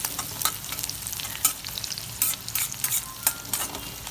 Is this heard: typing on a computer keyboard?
no